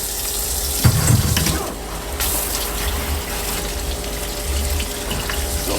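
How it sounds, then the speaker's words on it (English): Pickles are rinsed under a running kitchen tap, steady gushing water splashing into a sink with a brief louder surge near the start, close and continuous with no voices. "So we'll give these pickles a nice rinse."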